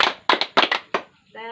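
A group claps in short bursts, a few sharp hand claps in quick succession, followed by a brief tonal sound at the end.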